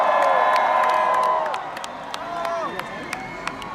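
A large outdoor festival crowd at a concert cheers and whoops loudly, then the roar gradually subsides into scattered shouts and applause, with voices mixed in.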